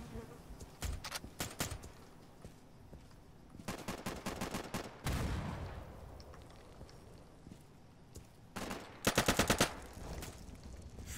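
Gunfire in the tactical shooter game Insurgency: several sharp bursts of rapid automatic shots separated by quieter stretches, with a final loud volley near the end.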